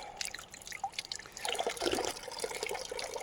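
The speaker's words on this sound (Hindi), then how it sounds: "लगातार पानी देखो बह रहा है" Water trickles and gurgles continuously through a field irrigation channel in a fertile Saryu valley village, a soft, close, bubbling flow that swells slightly midway.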